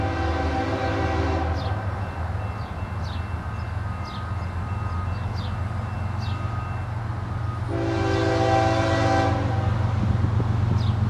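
A Norfolk Southern freight train rumbles past at a crossing, its deep rolling drone continuous while the horn blasts twice, a long sustained blare early on and another near the end, loud and close.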